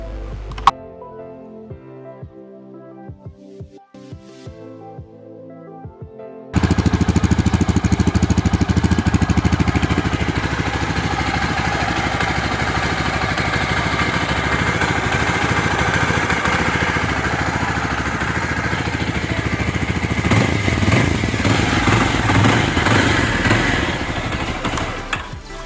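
Yezdi Adventure motorcycle exhaust note: after a few seconds of quiet ticking, the engine starts and settles into a loud, steady thumping idle close by, with a light blip of throttle near the end.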